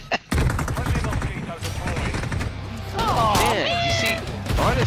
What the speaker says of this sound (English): Why am I shooting at him?